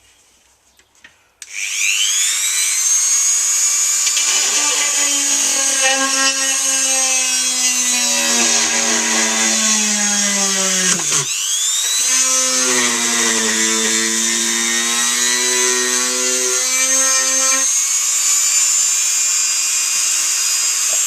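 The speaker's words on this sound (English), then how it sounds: "We're just going to drill some holes through." A high-pitched rotary tool whines steadily while drilling holes in a Boba Fett helmet, its pitch dipping under load and briefly cutting out midway before resuming, loud and close.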